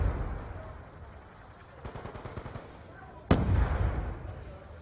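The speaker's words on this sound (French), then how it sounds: "La grenade qui a été lancée." A grenade explodes in Call of Duty Black Ops 2 as a single sharp blast with a rumbling tail, set amid ongoing gunfire and battle noise while a commentator talks.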